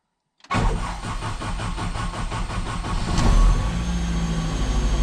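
A Mazda RX7 fitted with a Honda K20 engine cranks briefly and fires up, settling into a loud, steady idle close by with no talking.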